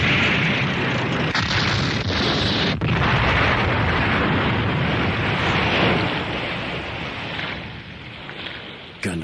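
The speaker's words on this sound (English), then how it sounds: "I did see the explosion" A prolonged, loud rumbling blast from the destruction of the Gundam 01 mobile suit in an anime, a dense roaring wash that holds steady for several seconds before slowly fading, with a sharp crack partway through.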